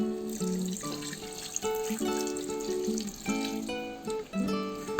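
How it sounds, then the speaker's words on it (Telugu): Water splashes and trickles into a pot of frying country chicken for Ambur biryani, a brief pour under background music. "ఇప్పుడు మనం ఇందులోకి కొద్దిగా వాటర్ పోసుకున్నాము."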